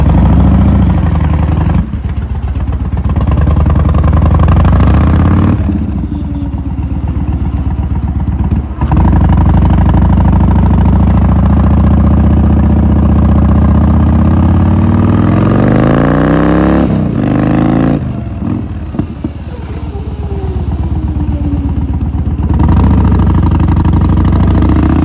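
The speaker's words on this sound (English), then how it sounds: "the exhaust tone is actually a little more rich and a little fuller" A Yamaha Warrior 1700 cruiser with Cobra swept exhaust and baffles installed idles with a loud, deep, rumbling tone, broken by a few brief revs that rise and fall before settling back to a steady close idle.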